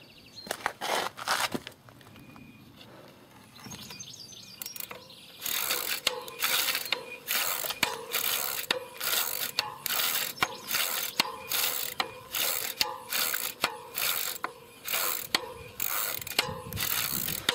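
Someone spins a 36V DC bike motor by hand, and it gives off a rapid series of sharp ratcheting clicks. The clicks are sparse at first, then settle into a steady, fairly loud run of mechanical ticking.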